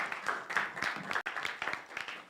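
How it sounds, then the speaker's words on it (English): An audience at a regional high-level policy dialogue applauds the panelists, a modest patter of hand claps at moderate distance, uneven and slightly thinning, with a brief break midway. "A round of applause to all our panelists."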